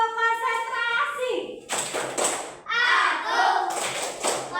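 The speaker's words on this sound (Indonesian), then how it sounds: "Bisa tepuk konsentrasi." A classroom of children performs a rhythmic concentration clapping routine, chanting together in bursts of claps and voices, fairly close and loud.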